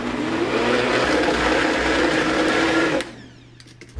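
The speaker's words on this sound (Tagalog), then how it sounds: "Kailangan malakas yung blender nyo para makadulog ng yelo." Blender crushing ice with mixed berries and water, a loud steady whirring grind for about three seconds that cuts off abruptly, followed by a brief quiet tail.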